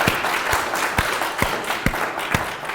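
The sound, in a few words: audience applause for Mary Bonnet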